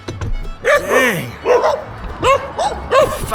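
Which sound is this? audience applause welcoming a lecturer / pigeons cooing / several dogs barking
several dogs barking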